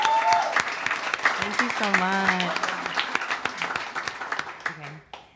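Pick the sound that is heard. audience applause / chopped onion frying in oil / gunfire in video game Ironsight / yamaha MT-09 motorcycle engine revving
audience applause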